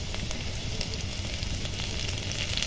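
Green chillies fry with onions in a hot pan, giving a dense, steady sizzle with faint crackles that continues throughout, close and fairly loud, with no talking.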